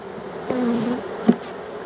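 Honey bees buzz in a bee yard, giving a close, steady drone with a few brief louder passes, and no voices present.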